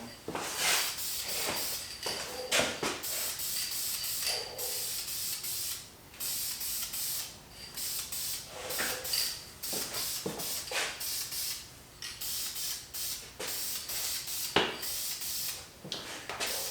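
Bursts of aerosol spray paint hiss onto hot metal in short and longer pulses, close up, with small clicks and handling noises between passes.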